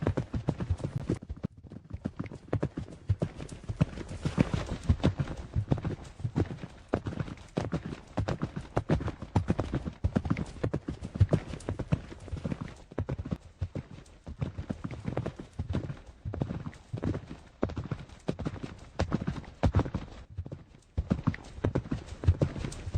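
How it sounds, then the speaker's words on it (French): Horses walked in an outdoor arena at an equestrian competition warm-up, hooves clip-clopping in a steady continuous rhythm throughout, fairly close, with faint voices now and then. "les filles commencent gentiment à marcher leurs chevaux"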